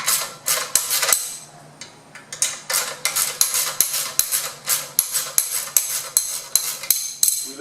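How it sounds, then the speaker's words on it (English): Metallic clanks and ratcheting clicks from a socket wrench loosening the clutch pressure plate bolts on a Dodge Viper GTS engine, close and loud, in a steady series of sharp repeated strokes. "Pressure plate is about to come off."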